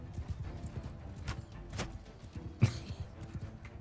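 Horse hooves in the medieval battle game Mount and Blade 2, quiet irregular clopping over a low rumble, with one sharper thud partway through.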